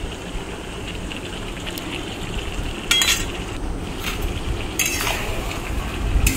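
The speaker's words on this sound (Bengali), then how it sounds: "সমস্ত গুঁড়ো মশলা দিয়ে মাংসটাকে ভালো করে কষিয়ে নিচ্ছি।" Chicken sautéed with ground spices in a pan: a steady, close, noisy sizzle with intermittent scraping and clinking of a spatula against metal, and no talking.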